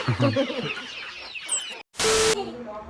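Native country chickens raised at a neighbouring house cluck in quick, close bursts, then a short silent gap and a loud, harsh rush of noise before the clucking resumes.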